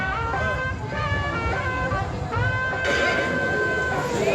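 Horses at the Anthiyur horse fair during a temple festival let out high, wavering neighs and whinnies, one after another, over constant busy fairground and traffic noise.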